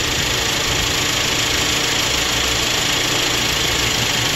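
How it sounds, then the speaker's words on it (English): Car engine idling steadily and loudly up close while the AC compressor clutch cycles off, a continuous broadband hum with no talk over it. "You hear the engine compensating for a load that's not there."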